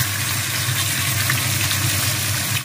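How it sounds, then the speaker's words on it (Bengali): Fish frying in hot oil gives a steady, close, loud sizzle that holds evenly throughout with no voices, then cuts off abruptly at the end. "দিকে তেল গরম হয়ে এসেছে, মাছ ভাজতে হবে।"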